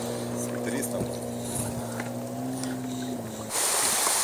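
A boat motor on the Seym River gives a steady, even drone that holds for a few seconds, then gives way to a louder, broader rush of wind or water near the end.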